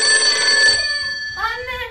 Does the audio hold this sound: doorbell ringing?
yes